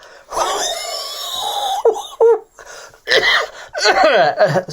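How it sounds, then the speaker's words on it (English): A man with a cough, narrating a fell running story, coughs in several rough, harsh bursts at close range, with wheezy breaths and short gasps between them. "Sorry, bit of a cough."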